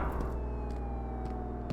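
An ambulance siren in the Flashing Lights game wails steadily at a constant loud level, its pitch gliding slowly downward under a low engine rumble.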